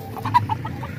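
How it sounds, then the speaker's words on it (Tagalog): White Night Peruvian chickens kept by a breeder, several short clucks in a quick uneven series, close and clear over a low background murmur. "Ito po yung mga manok niya mga ka-idol."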